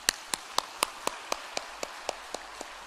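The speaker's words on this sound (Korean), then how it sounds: "이 시간 감사의 박수를 한번 올리도록 하겠습니다." A church congregation gives a round of thankful applause during a Sunday worship service, heard as a steady train of about a dozen evenly spaced sharp claps, fairly close and crisp.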